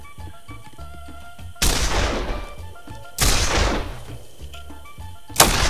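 Gunfire in the video game This Land Is My Land, three loud separate shots or bursts each trailing into a decaying echo, with someone talking briefly between them.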